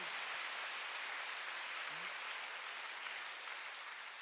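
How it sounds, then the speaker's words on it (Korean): A church congregation claps during a sermon, a faint, dense, continuous patter of many hands heard from a distance, steady throughout without pauses. "하늘나라 가면 봉사한 대로 박수 세게 쳐요."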